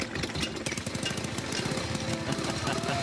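The serial number one Harley-Davidson motorcycle engine runs with a rapid, rough, chugging throb that holds steady and fairly loud throughout.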